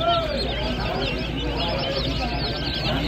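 Campbell and white Pekin ducks at a busy poultry and pet market, with scattered bird calls and clucking mixed into a dense, steady crowd din and nearby talking.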